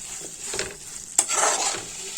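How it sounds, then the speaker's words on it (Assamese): Guava pieces being stir-fried with spices in a pan, a soft continuous sizzle with scraping stirring strokes and a sharp utensil clink midway, close and moderately loud. "দি পেলাই মই ধুনীয়াকৈ লৰাই দিম। মছলাৰ লগত ভালকৈ ভাজি ল'ম।"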